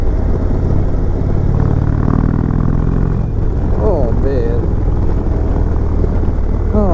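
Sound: 2020 Indian Chieftain Limited motorcycle stock exhaust

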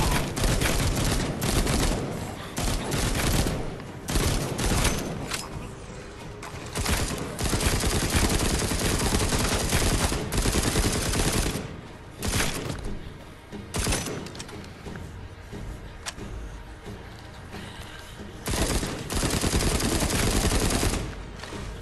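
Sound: shotgun firing in The Walking Dead Onslaught VR video game

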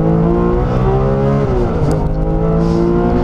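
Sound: Porsche 911R car engine while driving

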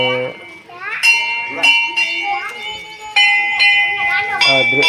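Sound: temple jhalar gong ringing

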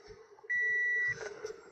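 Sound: short electronic beeps

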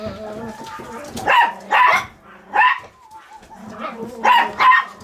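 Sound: dogs barking

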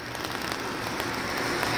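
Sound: rain falling at Pedra do Navio

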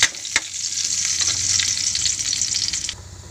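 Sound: garlic sautéing in a pan

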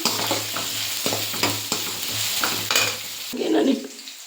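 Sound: frying ginger and spices in a pan

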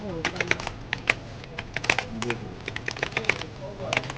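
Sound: typing on a computer keyboard

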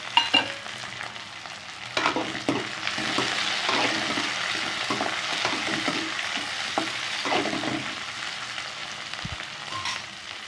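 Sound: curry leaves and green chillies frying with onions

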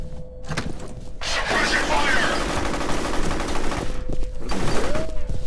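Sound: gunfire in the video game F.E.A.R

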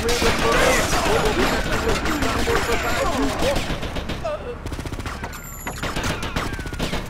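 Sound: gunfire in video game Grand Theft Auto Vice City

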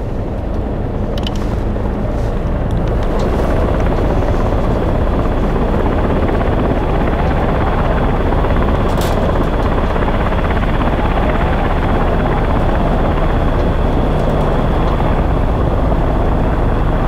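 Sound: helicopter making firefighting water drop

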